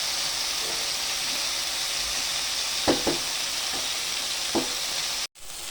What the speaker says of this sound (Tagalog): gisa na natin sibuyas, bawang, sa kamatis